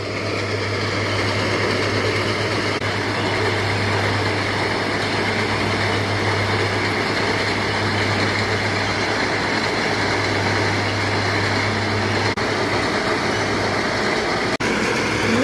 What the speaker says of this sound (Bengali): এই মেশিনটা বিশাল বড় একটা মেশিন আর আওয়াজে কান পাতা যাচ্ছে না প্রচণ্ড আওয়াজ